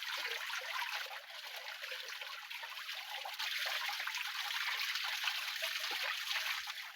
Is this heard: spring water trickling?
yes